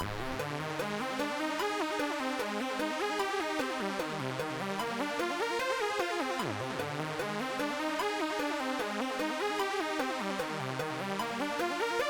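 Modular synth arpeggiator from a metal song's chorus, a steady fast run of rising and falling synth notes looping continuously at a constant level with no voices.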